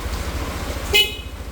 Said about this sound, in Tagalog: Siyempre, busina.